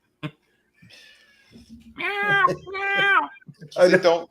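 A house cat meows insistently, several drawn-out calls rising in volume after a few soft sounds, close by in a quiet indoor room with no talk.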